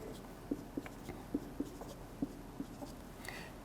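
A pen writes numbers by hand during a statistics lesson, producing a steady series of small tapping and scratching strokes, close and fairly quiet, with no voice over them.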